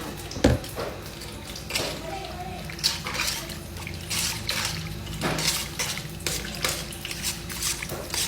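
Isaw, grilled chicken intestines, being washed under running water, with faint splashing and trickling throughout and occasional louder splashes, while people talk nearby.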